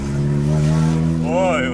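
Loud engine-swapped Honda Civic on its first drive, a steady droning engine note under a speaking voice, with a rising rev sweep near the end.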